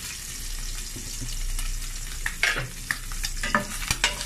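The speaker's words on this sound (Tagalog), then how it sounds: "Magpreprito tayo ng islang galunggong." Galunggong fish frying in hot cooking oil, a steady close sizzle with sharp spatters and pops growing toward the end.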